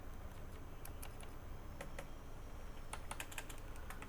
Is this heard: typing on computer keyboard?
yes